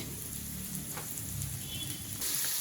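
Onions fry in a pan with a soft, continuous sizzle and faint crackles, close and steady for a few seconds with no voices.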